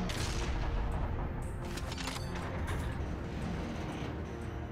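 A big gun fires in Asura's Wrath, a dense roaring barrage of loud booms and blasts that stays heavy and continuous throughout with no talk.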